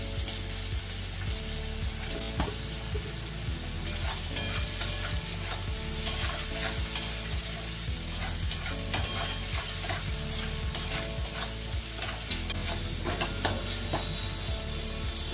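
Food sizzles in a hot pan with frequent stirring scrapes and clinks, a steady close crackle running throughout without speech.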